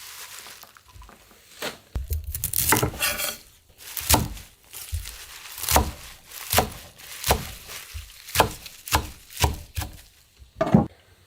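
A knife chops salted seafood into short 2 cm pieces on a cutting board for kimchi, a string of close, irregular thuds repeating throughout.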